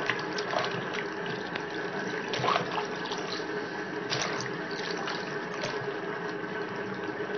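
Scent leaves are washed in salted water, a continuous splashing and trickling with occasional louder sloshes, steady and close.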